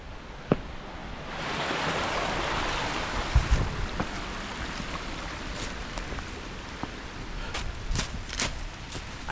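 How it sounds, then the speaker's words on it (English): Water tumbles over a small rock-bottom cascade just above a waterfall, a broad continuous rushing hiss heard close, with a few sharp knocks and taps over it. "Right up from the waterfall, there's a nice little rock bottom cascade."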